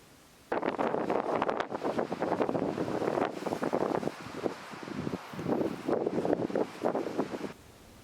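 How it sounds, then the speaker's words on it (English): Wind gusts around a farmhouse on a cold, misty morning, a loud broadband roar that swells and dips in waves for about seven seconds before dropping away, close and buffeting with no voices. "It's windy."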